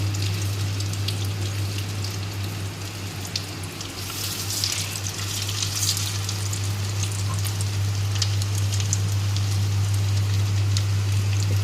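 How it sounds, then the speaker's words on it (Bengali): Soybean muitha dumplings frying in white cooking oil make a steady, close sizzle and crackle that swells a little at times over a low constant hum, with no voices. "এইবারে ভেজে নেব ওই একইভাবে মুইঠা এই যে এইভাবে লাল করে ভেজে নেব এগুলো"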